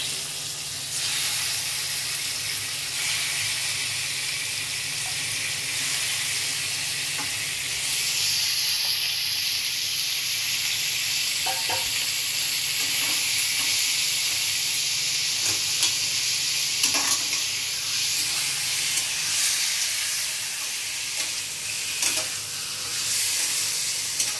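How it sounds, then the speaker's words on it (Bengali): Chicken marinated in salt, turmeric, yogurt, garlic and ginger frying for a dhaba-style curry, a loud, steady close sizzle with a rising hiss of steam midway and occasional stirring clicks, no talk. "ম্যারিনেটেড চিকেন, নুন, হলুদ আর টক দই, রসুন, আদা দিয়ে ম্যারিনেটেড চিকেনটাকে আমি ভেজে নিচ্ছি"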